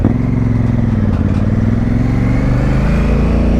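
A Honda Africa Twin motorcycle engine thrums loud and close, with a steady throbbing beat that eases slightly, heard alone without talk.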